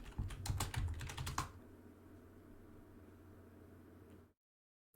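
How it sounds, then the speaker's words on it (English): Brief burst of fast computer keyboard typing, several sharp close clicks in the first second and a half, followed by quiet background hiss and then silence. "type in Fall Guys"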